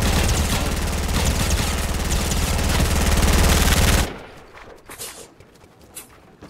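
Sustained rapid automatic gunfire in the Fortnite Mobile battle royale game, a dense loud stream of shots for about four seconds that stops abruptly, followed by quieter scattered in-game footsteps and thuds.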